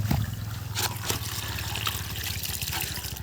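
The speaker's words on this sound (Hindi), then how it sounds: "पानी? इधर से आ रहा है ना।" Water runs from a tap in a rural Indian village in cold weather, a steady close trickle with a low hum underneath and no clear talk over it.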